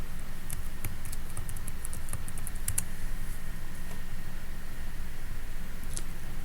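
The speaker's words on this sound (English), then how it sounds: "Type in the word and press the Tab key." Fingers type on a computer keyboard with a scattered series of light key clicks, a quick cluster near the middle and a final tap, over a quiet background hiss.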